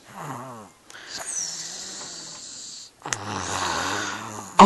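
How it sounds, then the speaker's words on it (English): A baby snores in short, close, raspy breaths, with three snoring bursts separated by quieter pauses and no talking. "Her snores with her eyes open."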